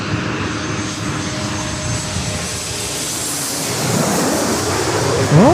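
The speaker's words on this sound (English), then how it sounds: "It's Embraer Lineage 1000." An Embraer Lineage 1000 jet passes near LAX, its engine roar steady and loud, building slightly toward the end as the aircraft comes closer.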